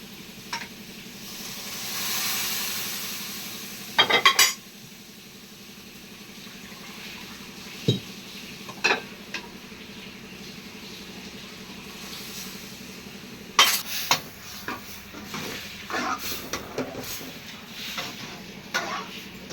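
Masala and chana dal sautéing in oil in a pan, a soft continuous sizzle broken by several sharp stirring scrapes and clatters, close by, with no voices.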